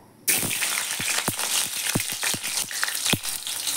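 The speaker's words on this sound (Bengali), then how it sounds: "এবার আমি আলুটা ভেজে নেব।" Potatoes fry in hot oil while chicken curry is being cooked, a steady crackling sizzle starting abruptly after a brief quiet moment, with sharp pops and spits scattered throughout at close range.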